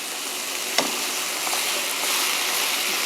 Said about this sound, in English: I'm going to go ahead and start browning the sausage